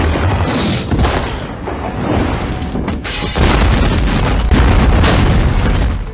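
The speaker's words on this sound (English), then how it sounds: "And the Golden Frank for best kill goes to Uncle Sam, when he was blown the hell up." An explosion from the 1996 horror film Uncle Sam sounds as a loud, rumbling blast. It continues as a sustained roar with repeated booming surges.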